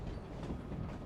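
A train in Genshin Impact rumbles steadily along the rails, a continuous close rolling clatter with no voices over it.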